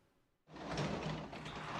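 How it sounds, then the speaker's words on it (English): A sliding front door rattles open in the video game Persona 4 Golden, starting with a sudden rush after a brief quiet and holding as a steady, close scraping roll with no voices. "You heard someone at the front door."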